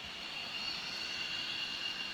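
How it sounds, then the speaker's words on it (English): Distant military jet roar at RAF Lakenheath, the aircraft braking as it comes in, a steady broad whine with a bright upper hiss that holds level throughout, fairly faint and with no talk. "Got a big aero brake coming in the background now."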